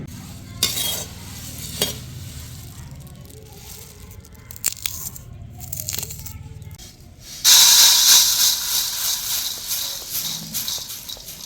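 Puffed rice is roasted and stirred in a wok for a jaggery snack, giving a steady dry rustling scrape, then a louder hissing sizzle in the last few seconds.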